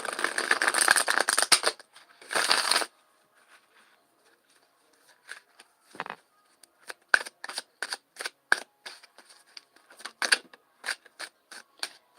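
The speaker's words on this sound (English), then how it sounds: "I'm going to give these a good old ruffle shuffle, so watch your ears, it might get a little loud." A deck of tarot cards being riffle shuffled, with two loud bursts of rapid fluttering card clicks, then quieter scattered taps and clicks as the cards are squared and handled.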